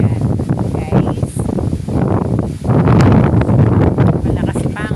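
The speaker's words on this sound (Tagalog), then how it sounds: "Malakas pa ang hangin ngayon." Strong wind buffets the microphone outdoors in Paete, Laguna, a loud rushing roar that swells and surges throughout, with someone talking under the gusts.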